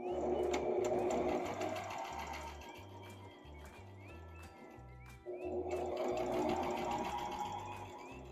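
Sewing machine stitching fabric, a steady rhythmic mechanical chugging that runs continuously, briefly pausing midway before resuming, close and loud with faint bird cooing in the background.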